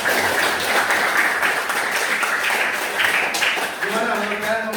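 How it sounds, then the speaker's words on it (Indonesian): A classroom of students claps together, dense steady applause throughout, with a voice coming in near the end. "Silakan kita tepuk tangan dulu untuk kita semua hari ini."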